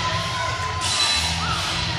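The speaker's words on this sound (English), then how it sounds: "Loud crowd here tonight." A loud, packed-house crowd cheers at an indoor pro wrestling show in Lenoir City, a dense steady roar with scattered whoops and shouts, no announcer talking over it.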